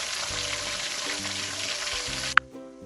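Chicken drumsticks fry in hot oil with a thick, steady sizzle and a low bubbling rumble, then a sudden sharp clink after which the hiss drops away, no one speaking.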